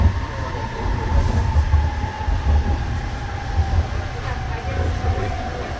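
A JFK AirTrain rumbles steadily along the track with a low, continuous roar and faint rhythmic clatter, heard from on board.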